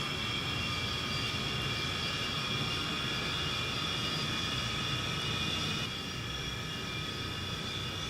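A B-52E bomber's jet engines at full throttle while taxiing in Flight Simulator X produce a steady, loud whining roar with sustained high tonal hums, dipping slightly near the end and running without talk.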